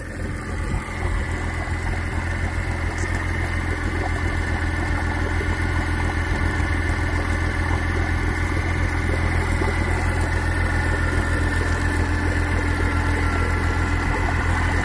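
A 2000 Honda 130 hp inline four-cylinder EFI four-stroke outboard motor idles high continuously with a steady, fast-running drone and rattling hum, close and loud throughout.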